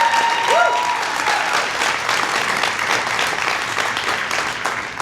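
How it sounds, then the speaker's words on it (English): Audience at a Dancing with Our Stars kickoff event applauds the new dance team, a steady wash of many hands clapping that holds strong and tapers only slightly toward the end. "One more round of applause."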